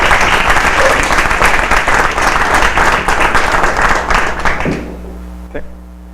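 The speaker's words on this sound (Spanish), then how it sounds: "les pido un fuerte aplauso para él" Strong, sustained applause from a lecture audience welcoming an architecture speaker, a dense wash of clapping that carries steadily for over four seconds before thinning out to a few scattered claps and quiet room tone.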